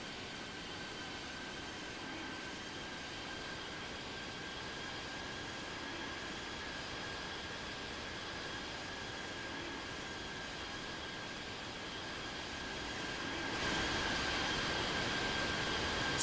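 A jet airliner takes off from runway 27 right at London, its engines giving a steady, loud broadband roar that swells further in the final seconds, with no voices.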